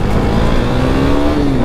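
A KTM Duke 390 motorcycle accelerates hard in a short, loud, close engine roar whose pitch climbs smoothly as it revs.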